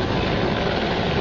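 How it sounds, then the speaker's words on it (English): A flying helicopter gives off a loud, steady, unbroken roar that fills the whole moment without talk. "this helicopter is flying without moving its propellers because it's defying physics"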